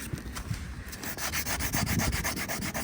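Hand sanding a fiberglass repair area with 180-grit sandpaper, a close, steady back-and-forth rasping rhythm with no talking.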